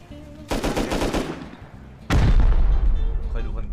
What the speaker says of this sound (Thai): เอ้ยใครยิงนะ